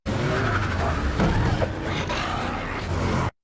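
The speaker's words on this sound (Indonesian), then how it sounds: "Frypan yang panik langsung injek gas tuh mobil." A car lurches forward under hard throttle in The Maze Runner: The Death Cure, tires squealing and engine roaring loudly and continuously before cutting off abruptly at the end.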